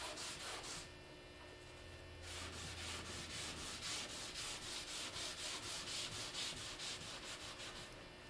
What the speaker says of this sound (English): Again, coming back with a cutoff brush, keeping that area wet.